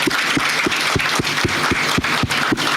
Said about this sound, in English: Let's clap for our panelists